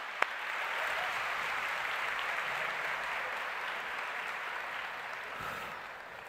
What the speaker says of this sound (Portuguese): uma salva de palmas, meus artistas